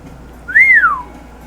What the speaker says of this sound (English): I'm just whistling back to them.